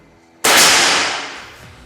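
A single sharp air rifle shot fired with Barakuda pellets, a loud sudden crack followed by a long decaying ring and echo, close by, with no talking.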